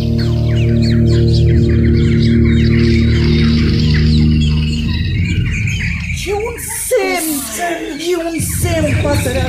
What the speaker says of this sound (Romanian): Fugiți, păsările se apropie.